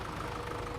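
A tractor engine idles steadily in a logging video game map, a low continuous rumble with a faint knocking texture, alone and even throughout.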